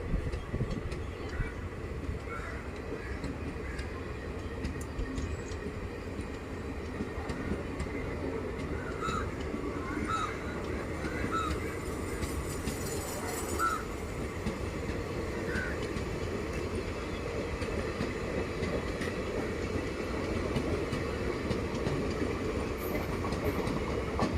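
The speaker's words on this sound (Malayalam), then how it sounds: "കോഴിക്കോട് കണ്ണൂർ പാസഞ്ചർ ട്രെയിൻ അങ്ങനെ ഒരു മിനിറ്റിന് ശേഷം വീണ്ടും വെള്ളയിൽ റെയിൽവേ സ്റ്റേഷനിൽ നിന്ന് പുറപ്പെട്ടിരിക്കുകയാണ്" The Kozhikode–Kannur passenger train pulls out of Vellayil railway station with a continuous low rumble and faint rail clatter that stays steady and moderately distant throughout.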